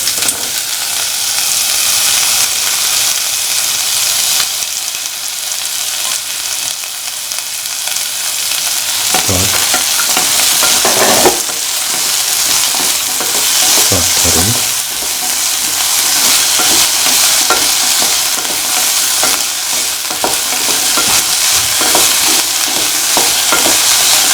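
Onions and shallots fry for okra peanut stew, with a loud, continuous sizzle and hiss and occasional bursts of stirring and scraping in the pan.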